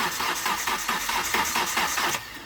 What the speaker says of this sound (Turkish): Marş yapıyoruz fakat marş almıyor